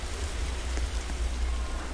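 Continuous rain ambience from a Roblox Studio game, a steady hiss of falling drops over a low rumbling bed, even and unbroken from start to finish.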